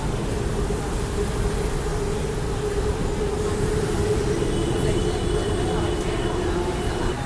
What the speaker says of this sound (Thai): รถไฟฟ้านะคะ